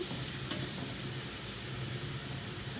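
Shredded cabbage with a little onion stirred in a pan until it wilts, a steady soft sizzle with faint scraping throughout, one brief clink near the start, no talking.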